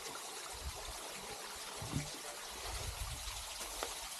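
A river stream flows quietly in an outdoor setting, a faint, steady rushing wash with a few soft low bumps from handling nearby and no speech.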